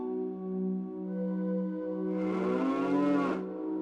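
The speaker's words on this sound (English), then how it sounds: "Sadly, I cannot milk the cows." Cows mooing in the game Zelda: Ocarina of Time, a long, low, steady bellow that swells louder near the end and then cuts off, heard alone.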